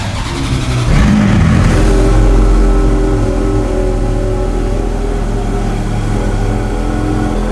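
A sports car engine, billed as Hong Kong's most expensive car, fires up with a loud surge about a second in, then settles into a close, powerful, steady rumble.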